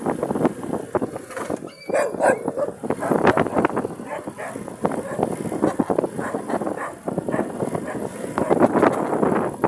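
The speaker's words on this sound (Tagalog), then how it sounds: "Sinabol pa tayo ng aso mga kalabas. Ayan, aso to." Dogs bark repeatedly amid steady wind and heavy rain noise outdoors, the barks moderately close and mixed with rustling.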